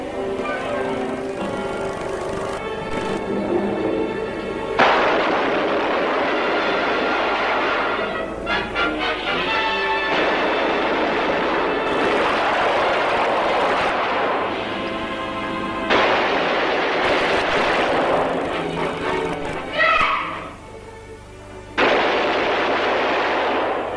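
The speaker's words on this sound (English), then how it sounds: "Machine guns." Bursts of machine gun fire crack out in a film battle scene, several sustained volleys separated by short pauses, loud and close, with no talk over them.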